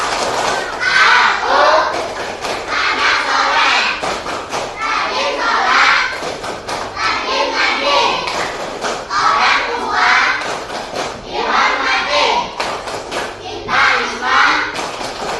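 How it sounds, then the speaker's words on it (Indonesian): A group of children chant the 'tepuk anak soleh' in a classroom, voices loud and rhythmic with bursts of sharp hand claps in repeated phrases, near and energetic. "kita tepuk anak soleh"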